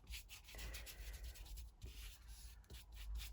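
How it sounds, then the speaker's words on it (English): A dry brush rubs paint across thin, smooth paper in short, soft, repeated scratchy strokes, close and quiet with no talk. "I'm using a dry brush"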